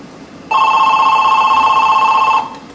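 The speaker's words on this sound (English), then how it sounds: "Free World Dial-Up has instructed my phone to tell this one to ring." A telephone rings with a steady, loud electronic tone, triggered by an internet call through Free World Dial-Up. The ring starts abruptly, holds for about two seconds and then stops, with no one speaking.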